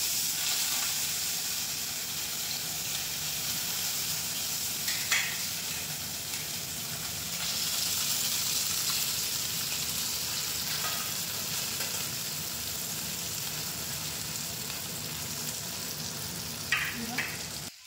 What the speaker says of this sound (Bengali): মাছগুলো আমার ভেজে নেওয়া হয়ে গেছে